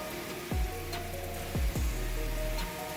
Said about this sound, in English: Then, torrential rain begins pouring down, as if it's trying to drown the entire city in a deluge.